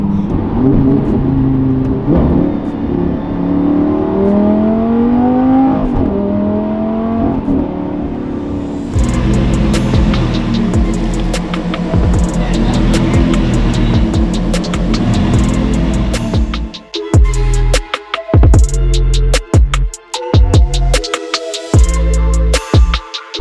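Repaired Lamborghini, previously crashed, driven on the road: a loud engine rising and shifting in pitch through gears, then a harder rev with crackling pops and gaps as the throttle lifts, close and continuous, with no talk.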